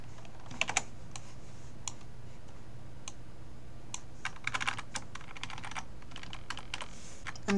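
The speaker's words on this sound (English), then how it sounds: "I'm using the arrow keys to move it around one pixel at a time." Computer keyboard arrow keys are tapped while nudging an animation frame, irregular light clicks in short clusters, close and fairly quiet, with no voice.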